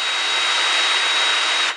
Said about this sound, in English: Insert the drill reamer into the drill guide. Apply pressure and start drilling.